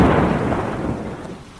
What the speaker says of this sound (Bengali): হঠাৎ ভীষণ জোরে একটা বাজ পড়ল। প্রথমে একটা চড়া আলোর ঝলকানি, আর তারপরেই বিকট শব্দ।